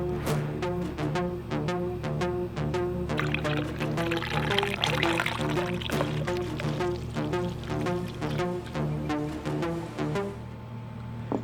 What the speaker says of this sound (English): I'm squeezing the water hoses to let some of the air out